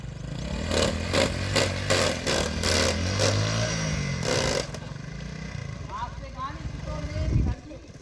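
Motorcycle engine in a rural village lane, a throaty rumble that pulses through repeated revs before dropping to a rougher idle, close and loud, with people talking over it.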